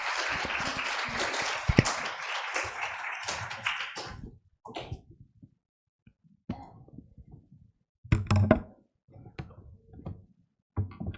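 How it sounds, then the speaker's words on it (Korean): Church congregation at a Sunday service clapping in welcome for a preacher: a dense burst of applause for about four seconds, then scattered single claps, taps and small handling noises with gaps of near silence. "우리 환영의 박수로 우리 환영하겠습니다."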